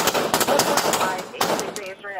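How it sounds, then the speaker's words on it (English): Several gunshots fired by LAPD officers at a suspect, rapid sharp cracks in a quick burst, loud and close, mixed with shouting and radio chatter. "1251, officer detail, shot fired."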